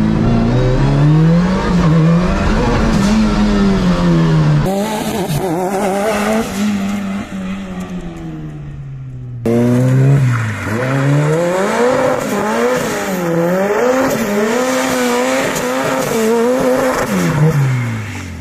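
A Porsche GT3 RS race car is driven hard, its engine rising and falling through gear changes and revs, with tire squeal in corners, loud and close throughout, with no talking.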